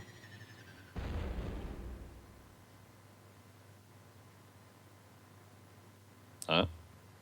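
A single gunshot in the Persona 2: Eternal Punishment video game, a sharp burst whose noisy tail trails off over about a second, followed later by a short click-like crack, all fairly quiet against low background hum.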